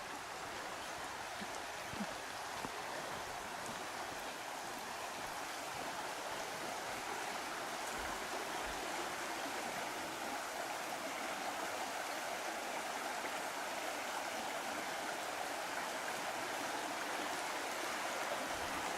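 Icy cold stream water flowing past a rural campsite, a continuous even rushing and splashing wash, soft but unbroken from start to end.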